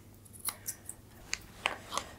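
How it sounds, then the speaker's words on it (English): Scissors snip over the hair on a cavoodle's paw pad, a run of about six light, crisp cuts spaced unevenly, close and clear over a faint steady background hiss. "I still prefer to run my scissors over them just to neaten them up"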